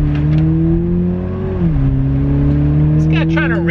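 A 2021 Toyota Supra GR with manual-mode shifting, its engine droning loud and close from inside the cabin, pitch dipping briefly as it shifts then holding steady, with faint tire or road noise toward the end.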